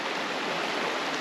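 A river stream rushes past at a campsite, a steady close broadband wash of flowing water heard alone without pauses or voices.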